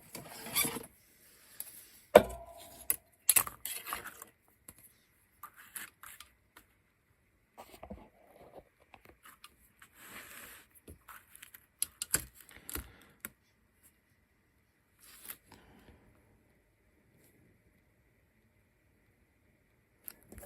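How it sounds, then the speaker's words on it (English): The back of a knife blade scores a card shop window for a model building, alongside a ruler, heard as faint, sparse scraping and clicking strokes with long quiet gaps, close up and without talk. "just scoring with the back of the knife blade"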